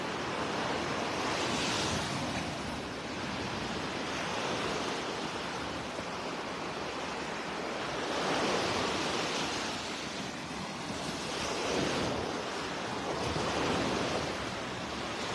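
Ocean waves roll onto a beach in North Naples, Florida, at daybreak, a continuous wash of surf rising and falling in slow surges, with light wind across the microphone.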